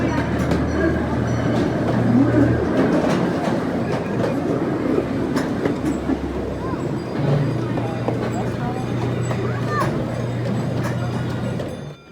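A small zoo amusement park train rides through a tunnel, its steady rumble and wheel clatter close and enclosed, with a low droning hum that fades in and out and a voice talking over it.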